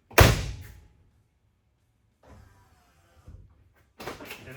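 The front door of a 1981-1991 Chevrolet Suburban opens with a sharp thunk, followed by quieter mechanical whirring as a power amp step deploys, then further movement noises.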